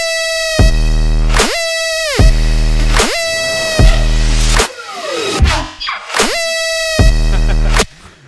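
Bright, buzzy synth lead stabs in a dance track, loud repeated phrases with heavy bass hits and a sweeping riser in between, no voices.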